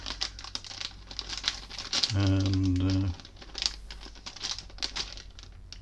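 A plastic bag packaging a Threezero Rick Grimes figure crinkles in scattered bursts close by, interrupted by a brief steady tone, with a few spoken words.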